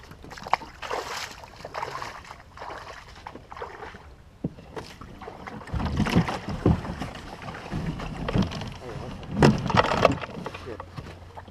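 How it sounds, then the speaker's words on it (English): Someone wades through water while pulling a kayak up toward shore, with scattered splashes and wooden knocks that swell into louder sloshing bursts later on, over faint wind. "I'll have to wade my way up there and pull the kayak up"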